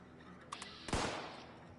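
In the video game Fallout 76, gunfire comes as a couple of quick faint pops and then one sharp loud shot that rings out and fades, with no voices over it.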